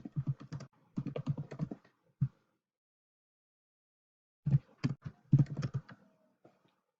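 Bursts of quick typing on a computer keyboard, two clusters of close, crisp keystrokes separated by a silent pause, with no talk.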